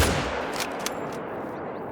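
A single rifle shot at a moose in theHunter: Call of the Wild hunting game bursts out sharply at the start, then a broad, fading echo rolls on for about two seconds.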